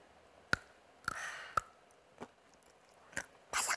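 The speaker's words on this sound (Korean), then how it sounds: "아몬드를 아몬드. 한번 제가 직접 먹어볼게요." Crunchy almonds bitten and chewed close to the mic, a few sharp crunches followed by a burst of crisp chewing, with quiet pauses between bites.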